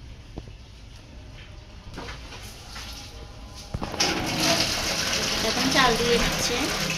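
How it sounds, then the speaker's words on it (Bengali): Hot water poured onto rice in a cooking pot in a home upstairs kitchen, a steady gushing splash that swells louder in the second half under background noise. "এটাও গরম পানি দিয়ে দিব"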